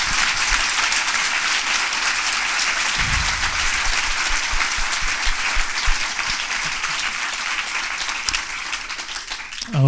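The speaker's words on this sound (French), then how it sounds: "je voudrais tout d'abord que tout le monde applaudisse très chaleureusement Benoît et Frédéric." A conference audience applauds warmly and steadily for the speakers, a dense, loud wash of many clapping hands sustained throughout, without letting up.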